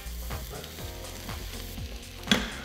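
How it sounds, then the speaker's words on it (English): Chopped vegetables sauté in a pressure cooker on its sauté setting for a pork shoulder dish, giving a steady close sizzle with soft stirring scrapes. "we're gonna saute our vegetables till they're nice and soft and brown"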